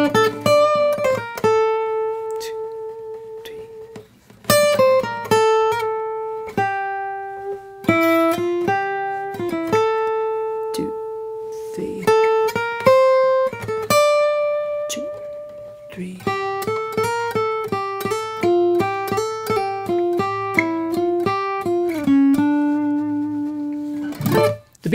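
Clean electric guitar plays a melodic section of a song up close, sustained singing notes with slides and bends, phrases separated by short pauses, busier toward the end.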